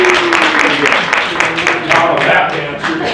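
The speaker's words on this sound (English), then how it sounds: "Give him a round of applause." Applause greets a speaker coming up at a sales meeting. Many hands clap in a dense, continuous patter that fills the room for a few seconds.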